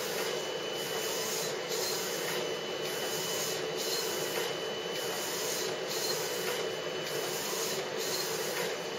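A large-format printer taking rolls up to 1.15 m wide runs steadily on its own, a continuous mechanical whir with regular rhythmic pulses as the print head sweeps back and forth, close and fairly loud.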